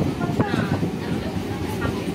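A local train pulls slowly out of Mayapur railway station with a dense, low rumble and a faint metallic clatter. The sound is heard from on board and stays steady and close throughout.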